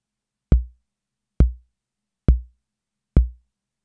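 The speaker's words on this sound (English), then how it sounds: "Bass drum." A Behringer RD-6 analog drum machine fires its bass drum four times at an even, slow pace, each a short, deep, round thump that decays quickly into silence.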